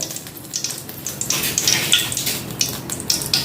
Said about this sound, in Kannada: ಇದಕ್ಕೆ ಈಗ ಸ್ವಲ್ಪ ಎಣ್ಣೆ ಹಾಕಿಕೊಳ್ತಿದ್ದೇನೆ ತೆಂಗಿನ ತೆಂಗಿನೆಣ್ಣೆ ಎಣ್ಣೆ ಹಾಕಿದ್ದೇನೆ